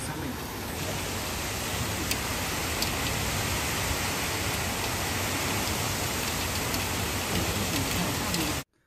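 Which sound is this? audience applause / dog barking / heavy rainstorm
heavy rainstorm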